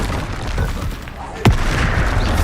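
A Confringo blasting spell goes off in Hogwarts Legacy as one sharp, close explosive crack that rises out of a rumbling background, with game noise continuing after it.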